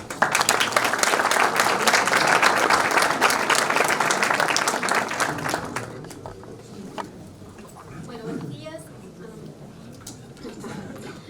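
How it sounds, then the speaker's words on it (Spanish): Seminar audience in Ushuaia applauding a speaker, a dense, sustained round of clapping that fills the first six seconds before cutting off, followed by quieter room noise and a voice beginning to talk. "La recibimos con un aplauso"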